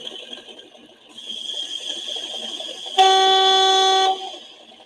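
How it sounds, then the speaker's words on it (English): Hornby TTS sound-card model train with a steady rail-running hiss, then a bright, sustained two-tone horn blast for about a second, loud and close, with no talk. "Is the brake squeal coming through?"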